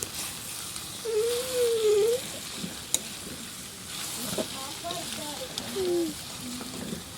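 Spicy food is stirred as it fries in a pan, giving a continuous sizzle with scraping strokes, while voices and higher vocal sounds come and go over it.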